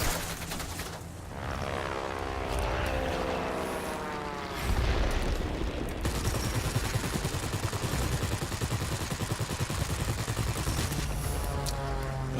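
Rapid machine-gun bursts from a Bristol 133 fighter in World of Warplanes, rattling over a steady droning propeller engine, with a louder stretch of sustained firing midway through.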